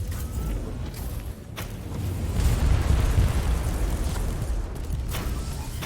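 Explosion of a mortar in a sci-fi action video game, a broad rumbling blast that swells and lingers over several seconds amid steady game noise.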